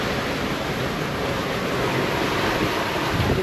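Ocean waves surge and roll behind a sailboat under way at sea, making a steady, loud wash of water and wind noise with no breaks.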